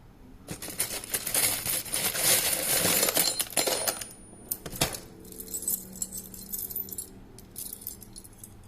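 Small metal screws, hinges and assorted hardware clink and jangle as they are sorted by hand, a dense run of metallic rattling followed by sparser scattered clinks and one sharp knock.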